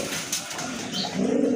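Pigeons kept for sale at a Bangladeshi pigeon market give a brief soft coo, close by and low, over faint background noise.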